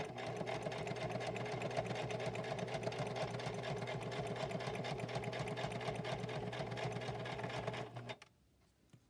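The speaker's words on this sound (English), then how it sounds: "get the sewing machine, and just go ahead and straight stitch." A sewing machine runs a straight stitch during a home craft project, whirring steadily and loudly for about eight seconds before stopping abruptly and leaving near silence.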